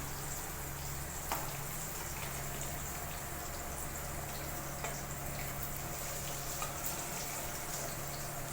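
Steady sizzle of food frying in hot oil in a wok, a dense continuous crackle with faint occasional pops, close and even throughout with no talk.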